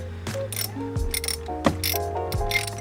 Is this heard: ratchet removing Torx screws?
yes